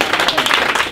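A church congregation claps and applauds together in a dense, steady wash of hand claps lasting the whole moment, loud and close with no talk over it.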